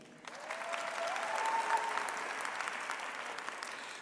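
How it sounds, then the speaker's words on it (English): At a university autumn graduation ceremony, the audience breaks into applause that swells from a soft start into a sustained, fairly distant wash of many clapping hands, with a faint voice underneath early on. "I'm going to read a few times, ask you to clap at each turn"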